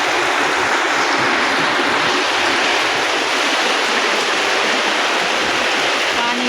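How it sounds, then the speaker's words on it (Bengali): Heavy monsoon downpour with a storm blowing, a dense, steady roar of rain hitting surfaces close by, continuous and loud throughout with no letup. "সঙ্গে ঝড়ও হচ্ছে, খুব জোরে বৃষ্টি পড়ছে।"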